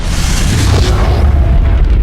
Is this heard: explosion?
yes